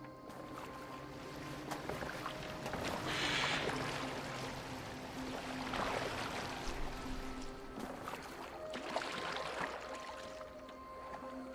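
Boat moving over water in Assassin's Creed Valhalla, a continuous wash and splash of water against the hull that swells and fades in several surges, with no talk.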